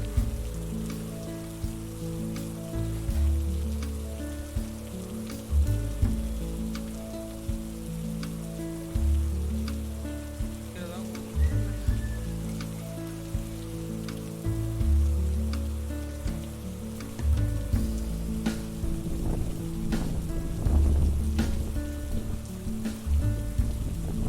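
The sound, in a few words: heavy rain falling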